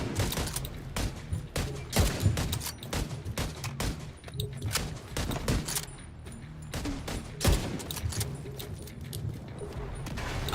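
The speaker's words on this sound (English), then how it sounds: "Oh, that's a grenade." A grenade blast in the shooter game The Division 2, heard amid dense rapid gunfire and combat noise, with a broad loud burst standing out from the sustained firefight.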